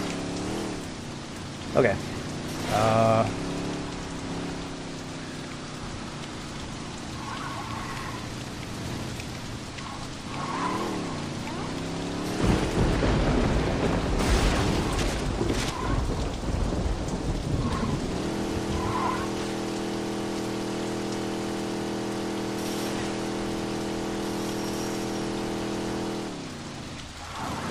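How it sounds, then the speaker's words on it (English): Steady pouring rain hisses throughout a Saints Row 2 game scene, with a rumble of thunder swelling midway, while engine and music tones run underneath and a voice speaks briefly. "I'm so glad I decided to start pouring rain."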